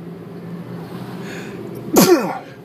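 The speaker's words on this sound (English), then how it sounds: "Sorry, I'm going to sneeze." A single loud, sharp sneeze bursts out close to the microphone after a stretch of quiet room tone.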